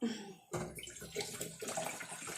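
Water splashes and sloshes as a bottle is rinsed out in a home kitchen, with a short burst of running water followed by uneven rattling splashes, close and fairly loud.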